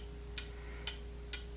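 An indoor clock ticks three times at an even, slow pace, soft against a steady electrical hum in a quiet room.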